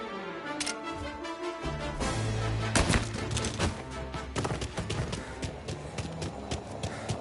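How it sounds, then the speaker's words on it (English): Repeated sharp gunshots crack over a dense, busy soundscape in the video game Mafia: Definitive Edition, irregular bursts spread throughout with no pauses. "Gunshots heard."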